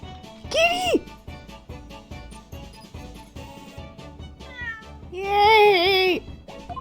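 A cat meows twice in the Ace Attorney Chronicles video game, first a short mew, then a longer, louder drawn-out meow a few seconds later, over quiet game sounds.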